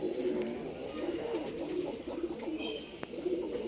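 Male sabja pigeon coos in a low, rolling, repeated rhythm, close and fairly loud, with a few faint chirps from other birds behind it.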